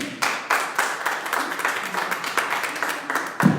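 A church congregation applauding during a Spanish-language sermon: scattered, uneven hand claps at a moderate distance, rising and falling in bursts with sharp individual slaps standing out.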